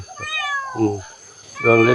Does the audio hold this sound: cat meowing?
yes